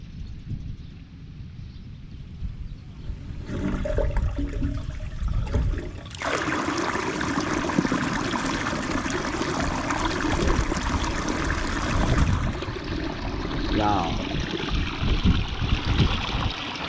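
Water gushes through an opened gate of a small farm irrigation dam, a steady loud broadband rush that swells suddenly partway through and keeps flowing strongly to the end.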